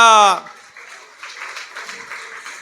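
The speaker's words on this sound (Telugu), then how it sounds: "చప్పట్లు కూడా దేవుని స్తుతిస్తారా?" A single voice calls out briefly, then a congregation at an Easter church service breaks into steady, moderately loud applause that continues to the end.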